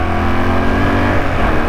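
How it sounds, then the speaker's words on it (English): A Honda Superdream 250 motorcycle fitted with loud Motad exhausts revs steadily, a dense, continuous engine roar close to the listener with no speech. "he's still quite a noisy boy. Motad exhausts are not quiet"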